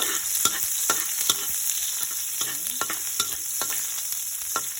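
Garlic with its skin on fries in a pan for afritada, a steady hiss of oil under repeated scraping strokes of a spatula stirring it, close and fairly quiet.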